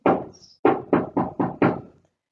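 Five firm knocks on a door, one lone rap followed by a brief pause and then four quick, evenly spaced raps, close and loud with no talking.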